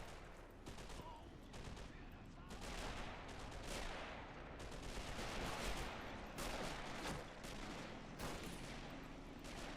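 Rapid bursts of rifle and submachine gun fire crackle in a Men of War Assault Squad battle, a Mosin rifleman trading shots with an MP40 squad leader, shots dense and overlapping against a constant battle din.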